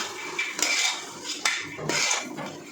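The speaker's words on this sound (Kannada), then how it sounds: "ಸೊ ನಾನು ಇವಾಗ ತೊಗರಿ ಕಾಳು ಹಾಕೋತಾ ಇದ್ದೀನಿ. ಮಿಕ್ಸ್ ಮಾಡ್ಕೊಬೇಕೀಗ." Toor dal pigeon peas being stirred in a pot: three close, clanking bursts of a metal spoon against the pot, with a hollow rattle between them and no talk.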